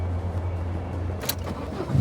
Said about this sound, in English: The car roared to life